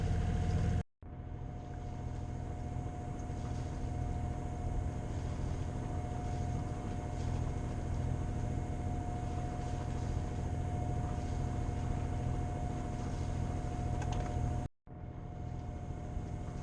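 Auxiliary engine of a sailboat motoring at about four knots in a flat calm at sea, a steady continuous drone with hull and water noise, unbroken apart from two brief cuts.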